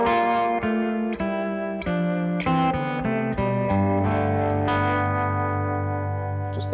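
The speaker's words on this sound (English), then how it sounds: "the Fender brown panel harmonic tremolo in it" Sustained electric guitar chords through a Fender brown panel amp with subtle pulsing harmonic tremolo wavering through the tone, chords changing every half second or so, ringing out at the end.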